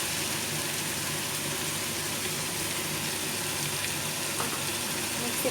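Curd is added to chicken masala frying in a pan, giving a steady close sizzle and crackle that carries on without pause.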